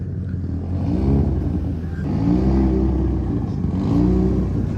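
Loud Mitsubishi Evo and Subaru cars driving past, with engines revving and rising in pitch in three swelling passes and a low rumble underneath.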